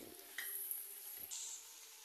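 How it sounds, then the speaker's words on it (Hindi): Sliced baby corn fries in a pan with mixed vegetables, a brief, fairly faint sizzle with a couple of soft bursts and light hissing over about two seconds. "अब हम इनको भी इसके साथ फ्राई कर लेंगे।"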